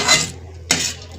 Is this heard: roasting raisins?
yes